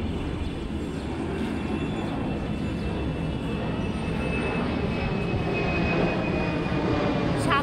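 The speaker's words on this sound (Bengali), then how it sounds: "দেখুন প্লেনটি কত নিচ দিয়ে যাচ্ছে।" A low-flying airplane passes overhead near an airport, its engines a loud, steady droning rumble that holds throughout without talk.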